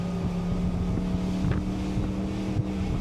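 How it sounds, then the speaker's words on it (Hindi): Mercedes-AMG SL 55 engine and exhaust in Sport Plus mode, a steady low rumbling drone heard while driving, with wind noise over it and no talking. "क्या बढ़िया साउंड करता है इसका इंजन, एंड क्या बढ़िया फील आती है इस एग्जॉस्ट से।"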